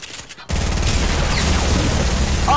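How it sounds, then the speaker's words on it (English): Rapid gunfire in a first-person shooter video game, a dense, loud burst of shots starting abruptly after a brief quieter moment and sustained to the end, close and steady. "He's shooting, he's shooting."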